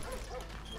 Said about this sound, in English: What are all these dogs barking about?